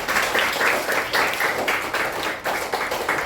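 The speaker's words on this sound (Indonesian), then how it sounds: "Tepuk tangan ya." Children in a classroom clap together in a steady burst of applause, close and fairly loud, with irregular rhythmic pulses throughout and no talk over it.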